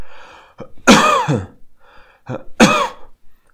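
A few harsh, forceful coughs close up, two main bursts with shorter throaty catches around them, no talking.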